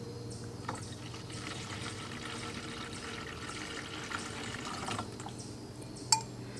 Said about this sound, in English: So I have 300 milliliters of distilled water, which I'm going to add to the gasoline.